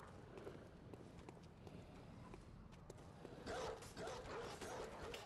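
Dogs bark from cages in the dark horror game Bloodborne, quiet and somewhat distant, with scattered yelps and scrabbling amid a steady low background.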